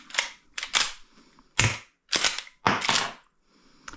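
Airsoft Winchester 12-gauge lever-action replica being cycled, with several sharp mechanical clacks and snaps of the lever working and shells ejecting, loud and close in irregular bursts with short pauses between.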